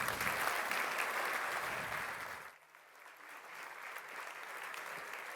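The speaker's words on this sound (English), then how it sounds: "A big round of applause for Ambassador Jan Eliasson." Audience at an ocean summit in Gothenburg breaks into sustained applause for an ambassador, a dense steady wash of clapping that dips briefly midway before swelling again, with no talk over it.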